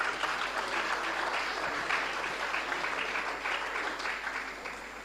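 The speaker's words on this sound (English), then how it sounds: "Can we give them another round of applause" Sustained applause from an audience at a dialogue event on pre-service health training institutions, dense and even clapping that holds loud for several seconds before easing slightly.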